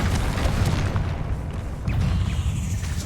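A Confringo fire spell in Hogwarts Legacy explodes with a deep, rumbling boom, a sustained low roar with crackling bursts over about three seconds.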